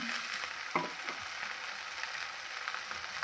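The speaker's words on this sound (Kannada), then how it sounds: "ಇದು ಚೆನ್ನಾಗಿ ಫ್ರೈ ಆದಮೇಲೆ ಕಟ್ ಮಾಡಿರುವಂತಹ ಒಂದು ದೊಡ್ಡ ಮೀಡಿಯಮ್ ಸೈಜ್ ಈರುಳ್ಳಿನ ಹಾಕ್ತಾಯಿದ್ದೀನಿ." Sliced medium onion frying in oil with okra, a soft, steady sizzle with a faint stirring clatter near the start, fairly quiet and continuous.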